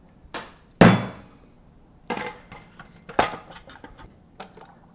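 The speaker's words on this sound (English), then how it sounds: "Now let's try it with an empty CO2 cylinder." A SodaStream carbonator fitted with an empty CO2 cylinder gives only a few sharp plastic clacks and knocks as the button is pressed, spaced irregularly, with no gas hiss.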